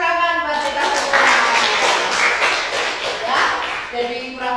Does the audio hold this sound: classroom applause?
yes